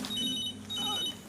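A telephone rings twice indoors, each ring a faint electronic trill lasting about half a second and separated by a short pause.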